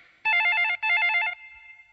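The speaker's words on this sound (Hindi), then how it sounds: "डबला सेठ फोन बज रहा है" An old-style telephone bell rings in two loud, close trilling bursts with a short gap between them, then fades out, in a scene from a 1996 Hindi film.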